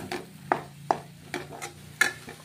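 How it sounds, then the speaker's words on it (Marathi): Spiced masala is sautéed in oil in a pan, with a spoon stirring and scraping in about half a dozen sharp, evenly spaced taps and clinks over a soft steady sizzle, close and fairly quiet. "आपल्याला मसाले चांगल्या प्रकारे परतून घ्यायचे आहे"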